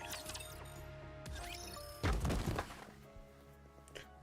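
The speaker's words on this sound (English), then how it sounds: "A loud noise rings out as someone tumbles into the warehouse." A sudden clatter, crash and heavy thud as someone tumbles into a warehouse in the video game NIKKE, a loud burst of impacts over a steady game music background, then settling.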